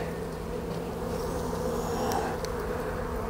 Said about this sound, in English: So there's two pretty good frames of bees.